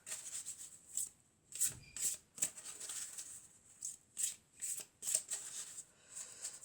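Oracle cards being shuffled by hand, a soft, close, papery riffling that comes in quick repeated bursts with short pauses, with no talking.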